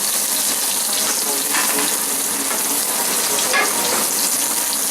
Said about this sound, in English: So in goes the cumin and coriander. Turn that up a little bit. Just let that toast away, a wee bit of oil just to help it along.